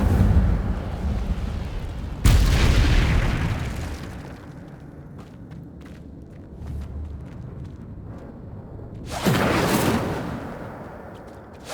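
Two fiery Incendio spell blasts from the Hogwarts Legacy video game burst out several seconds apart, each a loud whooshing roar that fades over about two seconds, with quieter game ambience and faint clicks in between.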